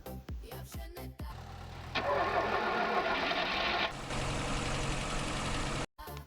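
A tractor engine in Farming Simulator 20 cranks and fires up at once, then settles into a loud, steady, near idle that changes pitch partway through, cut off briefly near the end. Someone speaks over the start.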